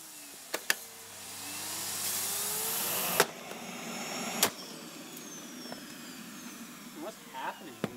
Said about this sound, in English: The motor's got some problems.